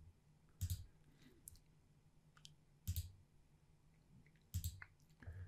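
A computer mouse gives three soft clicks, each a short double tap, spaced about two seconds apart in a quiet room, with no talking.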